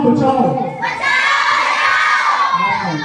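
A crowd of schoolchildren at a good touch bad touch safety session shout together loudly, a sustained group cry for help that swells and holds, close and energetic.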